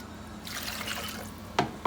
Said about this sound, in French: Et je mesure également 2 boîtes d'eau. Voilà, je verse dedans.